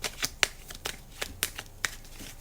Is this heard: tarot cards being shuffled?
yes